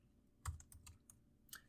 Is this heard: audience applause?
no